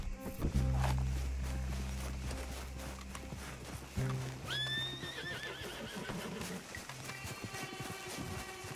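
A horse in the video game Red Dead Redemption 2 gives a loud whinny partway through, with hoof clip-clops, a low rumbling drone and a faint game soundscape around it.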